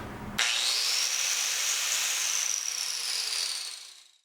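A harsh, high-pitched grinding whine of a Fein angle grinder carving wood starts suddenly and holds steady for a few seconds before fading out.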